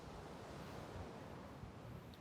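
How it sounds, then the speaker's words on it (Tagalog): Strong ocean waves on a beach, a steady full roar of surf and wash with wind noise on the microphone, loud and close throughout, with no voices. "Lakas ng alon."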